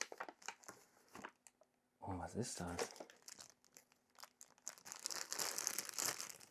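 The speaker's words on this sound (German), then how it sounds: "Ich spüre eine Tüte." Plastic bag crinkling and rustling close up as plants are unboxed, in irregular bursts that grow denser toward the end, with a brief spoken question in the middle.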